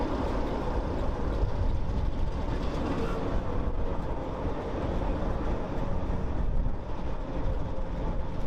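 A 1960-built Class 08 diesel shunting locomotive on a heritage railway line gives a steady, moderately distant rumble of engine and rolling wheels, continuous and without talk.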